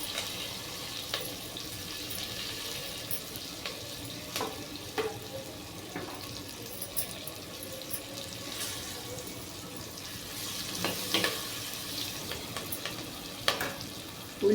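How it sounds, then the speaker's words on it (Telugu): Chopped onions, green chillies and curry leaves fry in a pan for a potato and pea fry, a soft steady sizzle with scattered scraping taps of a spoon, fairly quiet and close, no speech. "కట్ చేసుకున్న ఉల్లిపాయ ముక్కలు, పచ్చిమిర్చి ముక్కలు వేసుకోవాలి."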